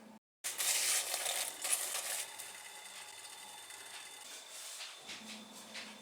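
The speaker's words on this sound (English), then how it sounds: "Stir that together." Walnuts, sugar, cinnamon and water being stirred together in a bowl, a steady scraping, clattering rustle that runs continuously after a brief silent gap at the start, close and fairly loud.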